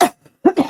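A person coughs twice, a short sharp burst followed by a fuller double cough, close and fairly loud with nothing else around it.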